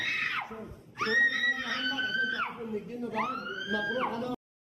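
A woman screams during an exorcism ritual: shrill, drawn-out wailing cries. One scream breaks off, then two long, sustained screams follow, the second falling away before a sudden silence.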